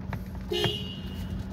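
A 2021 Mitsubishi Pajero Sport Dakar sounds its horn in one short, clear toot of about a quarter second, close and distinct over a quiet background.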